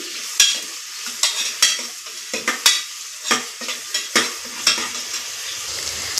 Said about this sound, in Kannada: ಇವಾಗ ನೀಟಾಗಿ ಫ್ರೈ ಆಗ್ಬೇಕದು ಈರುಳ್ಳಿ